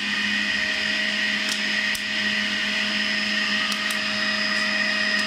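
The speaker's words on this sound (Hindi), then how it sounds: "ये मिक्सी बंद करी" A BPL 500W centrifugal juicer runs with pomegranate seeds, giving a loud, steady high-pitched motor whine with a few brief clicks or rattles, close and continuous throughout.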